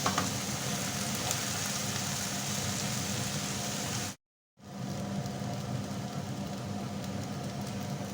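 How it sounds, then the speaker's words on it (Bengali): Steady, even sizzle of greens frying in a pan, broken by a brief silent gap midway, with a low hum underneath. "প্যানে করে আমি শাকটা বাগার দিলাম এই কারণে যাতে শাকটা ভালোভাবে ভাজা ভাজা হয়"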